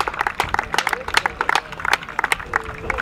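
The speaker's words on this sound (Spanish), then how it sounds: "un aplauso para Ainhoa" An outdoor crowd applauds at an ox-pulling contest during a San Isidro fair, with sharp, uneven bursts of clapping close by and a murmur of voices mixed in.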